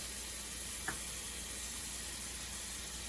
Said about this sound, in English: So to the hot pan, I'm going to add the butter.